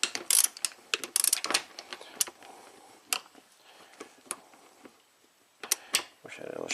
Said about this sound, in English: So just preload that, and cam bolt is definitely coming out.